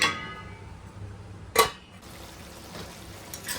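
A lid is set onto a pot of broad bean curry simmering over a medium flame, giving one short, bright clank partway through against a quiet kitchen background.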